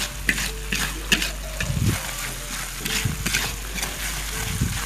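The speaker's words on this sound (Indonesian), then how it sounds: "jangan lupa kita aduk terus seperti ini, jangan sampai gosong" Stir-fried bitter melon with anchovies being stirred in a pan, with steady scraping and clattering strokes over a continuous sizzle, close and moderately loud.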